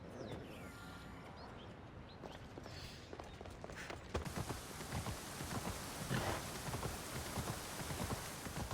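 Hooves of Hades' horse clip-clop in Assassin's Creed Odyssey with a soft, continuous, irregular patter over a noisy, rain-like ambience that swells louder in the second half.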